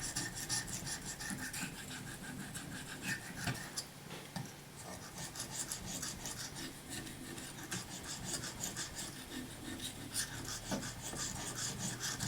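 A hunting knife is honed to a V edge on a sharpening stone, giving a steady close rasp of blade on abrasive with repeated strokes and faint ticks, and no voices.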